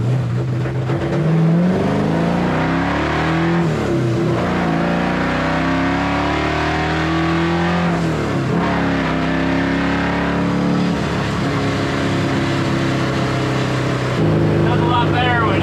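The LS-swapped engine of an International Harvester Travelall wagon revs hard on a dyno, its pitch sweeping up and down through repeated loud climbs, up close and continuous.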